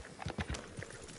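Horse hooves clip-clop in Red Dead Redemption 2 as a horse moves through the New Austin region: a quick run of fairly soft, close hoofbeats over a faint background.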